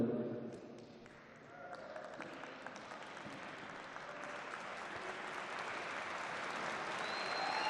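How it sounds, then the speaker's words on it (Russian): Fans at a judo championship applaud in an arena, with scattered clapping that builds into fuller, sustained applause. A commentator talks over it. "Поддерживают его болельщики аплодисментами."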